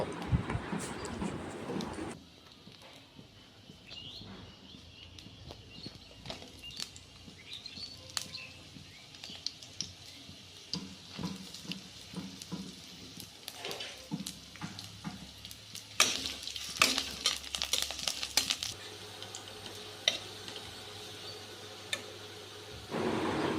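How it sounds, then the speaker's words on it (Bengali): Onion, green chilli and garlic fry in oil in a pan, sizzling and crackling with occasional stirring scrapes, and faint birds call in the background. "এবার কড়াইয়ে তেল, পেঁয়াজ কুচি, কাঁচা লঙ্কা, রসুন কুচি দিয়ে দেব।"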